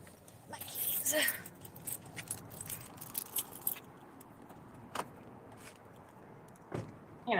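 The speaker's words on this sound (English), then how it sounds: "My keys." Keys jangle near a parked car during a drive, with a few louder metallic rattles and clicks over low road and cabin noise, and a brief voice in the background.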